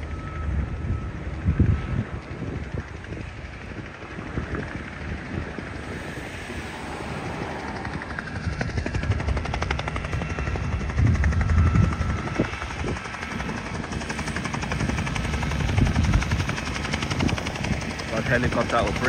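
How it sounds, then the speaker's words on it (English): Bell helicopter flying at the Oshkosh airshow in 2023, a steady rotor thrum carried over wind buffeting on the microphone, persisting throughout with a slightly louder stretch midway, while a voice talks intermittently. "Helicopter operations with the Bell helicopter."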